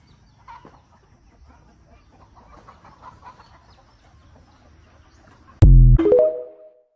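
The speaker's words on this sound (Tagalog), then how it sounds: "nakadungog man yung manok sa inyong eskwelahan" A chicken clucks in a sudden loud burst of squawks close by near the end, following a stretch of faint murmuring and soft background noise.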